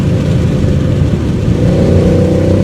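Mercedes C63 AMG with Renntech tuning driving through corners toward a tunnel, its engine a loud, continuous low rumble that holds steady close up and rises slightly toward the end.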